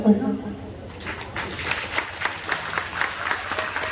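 A crowd at a Maithili stage show claps in quick, steady rhythm after a brief shouted voice at the start, the clapping carrying on evenly to the end.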